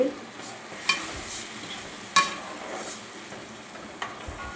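Tamarind water poured into a hot frying pan while cooking drumstick-leaf thokku, a soft steady sizzle broken by three sharp utensil clinks or splashes, no speech.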